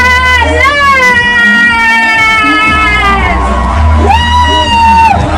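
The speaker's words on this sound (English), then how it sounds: "Yes, let's cheer for him." A large crowd at a youth event with Malawi's President Chakwera cheers and whoops loudly and continuously, with sustained shouted voices and rising, falling yells filling the space.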